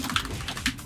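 Rapid computer keyboard typing during a game match, a steady run of clicky keystrokes with louder bursts, close and fairly quiet, with no talk.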